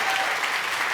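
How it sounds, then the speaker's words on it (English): Steady, dense applause from a studio audience at a talk on reproductive health, filling the whole moment without a break. "please give these two ladies a round of applause"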